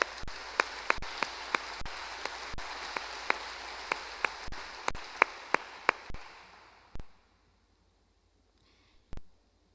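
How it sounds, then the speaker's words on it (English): An audience at a school class night applauds award presenters, a steady dense patter of clapping with sharp individual claps standing out, running loud for several seconds before fading to silence, with a couple of late isolated claps. "that deserves an applaud"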